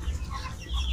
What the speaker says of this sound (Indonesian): ayam yang saya pelihara adalah merupakan ayam kampung biasa